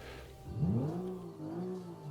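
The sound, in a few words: car engine, louder interior sound, Automation video game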